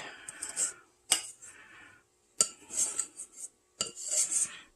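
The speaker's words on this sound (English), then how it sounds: "Scrape it all out of there." Metal ice cream scoop scraping leftover no-bake cookie dough from a bowl, giving four separate bursts of close, dry scraping and clinking, each followed by a pause of near silence.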